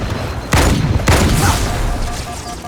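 Two heavy, booming grenade blasts go off about half a second apart in Halo 2 Anniversary, loud and close, each trailing into rumbling debris.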